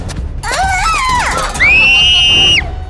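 An animated character screams for help in a shrill, sustained cry, first wavering, then rising into a long, loud, piercing shriek.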